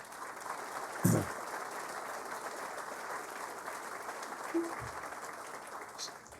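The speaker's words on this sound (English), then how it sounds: "these people deserve a round of applause for sure" An audience at an event center groundbreaking ceremony in Kalamazoo applauds, a faint, steady wash of distant clapping with a couple of brief louder knocks.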